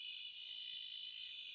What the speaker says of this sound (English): That's where these Booroolong frogs